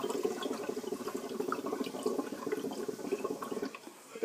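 Water inside a hookah base bubbles as smoke is drawn through it, a continuous close gurgling burble that stays fairly even and dips near the end, with no voices.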